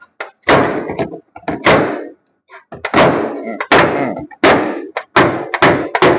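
Panel hammer knocking out a dented car front fender from behind, giving a run of loud, close metallic thuds and knocks in irregular bursts with brief pauses between them.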